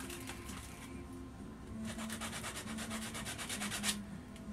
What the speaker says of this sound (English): A little bit of hand sanding though